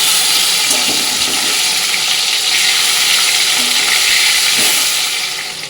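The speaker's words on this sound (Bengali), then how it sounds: "মাছগুলো ওপিট ভাজা হয়ে গেছে এবার তো উল্টে দেবো" Fish fry in oil in a pan with a loud, constant broadband hiss like rushing water, steady throughout and tapering slightly at the end, no speech.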